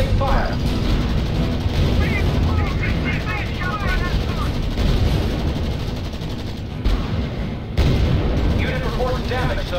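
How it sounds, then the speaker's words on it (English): Artillery booms and bursts of gunfire from the real-time strategy game R.U.S.E rumble as a dense, loud barrage with a continuous low roar, while radio-style voices talk over the battle throughout. "Unit under sustained fire."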